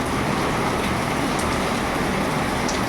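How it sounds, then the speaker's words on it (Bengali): Heavy monsoon rain pours over a village at midday, an unbroken, loud, even roar of rainfall with no pauses. "দেখুন বৃষ্টিটা হচ্ছে কেমন।"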